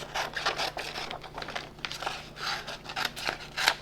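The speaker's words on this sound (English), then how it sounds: "So let's go ahead and cut this out." Scissors cut out a printed sublimation transfer sheet with a series of close, crisp paper snips and rustling strokes in an uneven rhythm. No one speaks.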